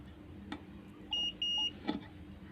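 A multimeter sounds short electronic continuity beeps while testing the live and neutral connectors of a faulty electric water kettle, two brief clear tones close together over quiet room noise.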